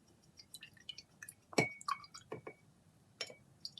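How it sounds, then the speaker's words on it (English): A paintbrush is swished and tapped in water during watercolor painting, producing scattered drips, light splashes and glassy clinks against the jar, close and quiet with no talking. "So go ahead and rinse your brush."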